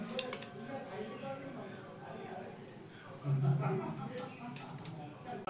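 A spoon clinks and scrapes in a bowl while oil and cornflour are stirred together, with soft repeated taps, a brief louder knock near the middle, and a voice talking throughout.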